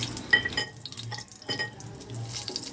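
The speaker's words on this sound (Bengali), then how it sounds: "দিয়ে আমি 1 সেকেন্ডের মধ্যে একটু নাড়াচাড়া করে নেব" Whole spices, bay leaf, cinnamon, crushed cardamom and cumin, frying in oil in a pan for a spiced chicken dish, with a few scrapes and taps of a stirring spoon over a soft sizzle.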